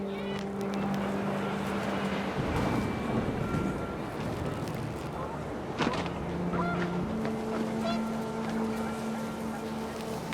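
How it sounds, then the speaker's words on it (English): Panicked geese honk in What Remains of Edith Finch as wind picks up outdoors, several sharp honks scattered over a gusty, rushing background, with sustained musical tones running beneath. "panicked geese appeared and quickly went"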